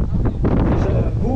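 Strong wind buffeting a microphone outdoors at a large motorbike and scooter gathering in France, a loud, continuous low rumble that covers everything else.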